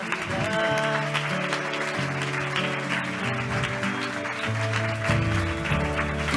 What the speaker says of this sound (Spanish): Fuerte aplauso para Peru Saipres.